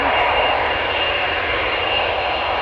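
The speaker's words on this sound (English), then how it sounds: "That means that the 787-10 Dreamliner is also on the move." A KLM Boeing 787-10 Dreamliner departs Amsterdam Schiphol Airport with a loud, continuous jet engine roar that stays steady and close for the whole stretch.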